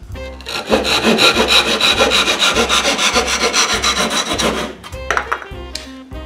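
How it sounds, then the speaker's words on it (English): A Japanese-style hand saw cuts through a wooden dowel in quick, regular back-and-forth strokes, loud and close, then slows and stops with a few final rasps. "I'm just going to use a Japanese style saw."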